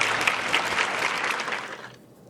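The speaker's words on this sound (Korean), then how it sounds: "자, 박수 부탁드립니다." An audience at a community residents' meeting claps in a burst of applause lasting about two seconds before it quickly fades out.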